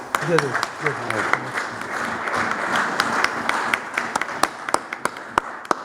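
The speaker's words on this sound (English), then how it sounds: "let's all applaud this" An audience applauds an award presentation at a Sikh parliament gathering in Birmingham, with steady, fairly close clapping and sharp individual claps that thin out toward the end. A voice speaks briefly at the start.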